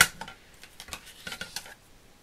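Thin metal cutting plates clink and rattle lightly against each other and against hard surfaces as they are handled for a die-cutting machine, giving a string of faint, close metallic taps.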